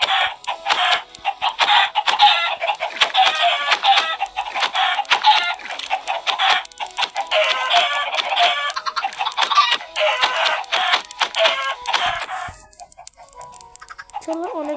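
A crowd of spawned poultry in Minecraft keeps up dense, overlapping clucks and squawks in quick bursts, loud and close, before thinning out near the end.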